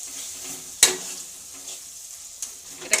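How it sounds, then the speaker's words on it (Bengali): Spices with red chilli powder fry in a pan, a soft, even sizzle punctuated by a few crisp spatula scrapes, close and fairly quiet. "এগুলো দিয়ে একটু নাড়াচাড়া করে নেবো"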